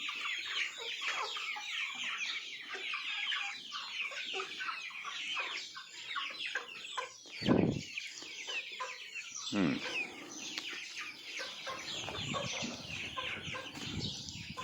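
Chickens clucking on a farm around feeding time, a busy mix of close and farther clucks and squawks, with a couple of louder bursts midway.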